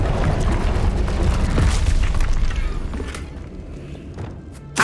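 A Confringo fire spell blast in Hogwarts Legacy, a deep rumbling boom that rolls and fades over a few seconds, followed by a short sharp hit near the end.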